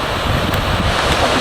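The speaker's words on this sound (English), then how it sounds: "Waterfalls on the Ice Lake Trail." Waterfalls on the Ice Lake Trail in Colorado give a steady broadband rush of falling water, close and fairly loud with some wind buffeting, alone for a brief moment.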